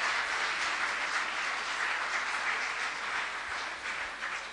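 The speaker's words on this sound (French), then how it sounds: "Allez, on applaudit la sœur" A church congregation applauds a sister at a service. The dense, steady wash of clapping sounds somewhat distant and continues evenly throughout with no voices over it.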